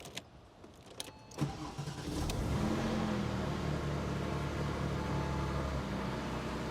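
A 2004 Porsche 911 GT3 engine cranks and catches after a few clicks, then settles into a steady, loud idle rumble with no talking.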